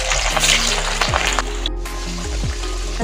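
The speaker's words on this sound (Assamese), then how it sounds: "ইয়াতে এতিয়া মই আগতে আলুখিনি ভাজি ল'ম।" Potatoes fry in a pan on a floor-level stove while chicken curry is being made, a steady broadband sizzle and hiss holding across the whole stretch alongside a low background hum.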